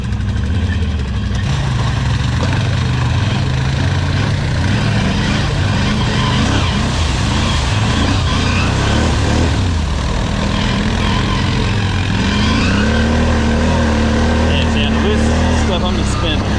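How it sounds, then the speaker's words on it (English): A new 2020 Can-Am Outlander 650 XMR quad spins its mud tires, its engine droning loudly and steadily close by with rising and falling revs. "I'm just spinning the tires and blowing them right off."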